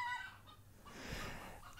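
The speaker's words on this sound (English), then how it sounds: "I have to deal with this chicken nonsense." Chickens cluck faintly in short bursts, with a brief call near the start and softer scratchy fowl sounds later, quiet and close.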